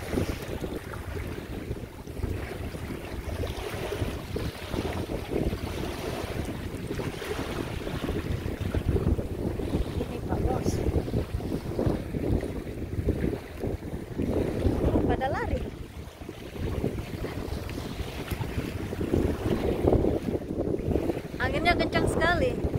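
Strong wind buffets the microphone on Barwon Heads beach, a continuous loud rumbling roar mixed with surf, gusting unevenly throughout.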